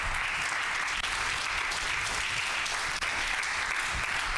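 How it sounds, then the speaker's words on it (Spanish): A church congregation breaks into strong, continuous applause, a dense steady wash of clapping that stays loud and even throughout. "Denle un aplauso fuerte al Señor"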